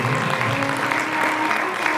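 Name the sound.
audience applause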